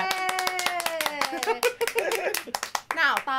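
Steady rhythmic hand clapping runs through the whole stretch, close and fairly loud, with people talking and a voice rising over it during a casual reaction-show viewing.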